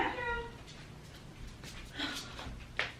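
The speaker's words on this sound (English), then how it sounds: "So this is our second cat, Mushroom." A pet cat meows indoors while being held, a few short, faint cries over soft room noise and rustling, with a person speaking quietly nearby.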